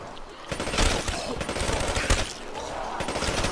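A PPSh submachine gun fires in a Call of Duty zombies game, rapid bursts of close automatic fire that keep going almost without a break.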